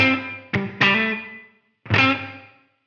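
Distorted electric guitar through a Line 6 Helix with reverb mixed at half and a very short decay: three struck chords, each ringing briefly and cutting off quickly with little tail.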